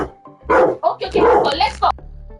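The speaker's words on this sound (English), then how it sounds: "You're barking at me." A dog named Kobe barks in several short, loud bursts at close range, the barks mixed with a voice talking over and between them.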